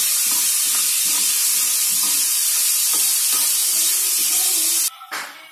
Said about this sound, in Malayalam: വറുത്തെടുക്കാം. ബ്രൗൺ കളർ ആവുന്നത് വരെ വറുത്തെടുക്കാം.